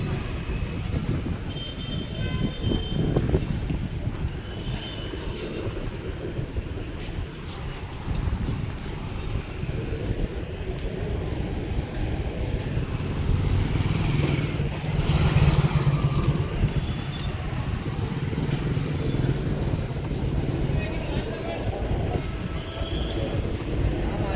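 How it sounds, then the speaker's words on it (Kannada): A KKRTC Ballari depot bus pulls into the Ballari bus stand, its engine a low steady rumble amid general station traffic noise and wind, moderately near, with no speech over it. "ಈ ಬಳ್ಳಾರಿ ಡಿಪೋ ಗಾಡಿ ಬರ್ತಾ ಇದೆ"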